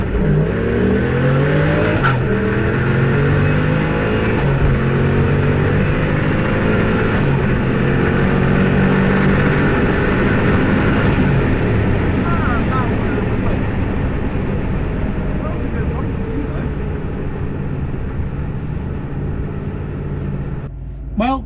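Turbocharged Lexus LS400 with 1UZ V8 drag car launching at Santa Pod at 29 psi boost, loud engine revving through several rising gear pulls with sharp shift breaks, then a long sustained roar fading slightly near the end.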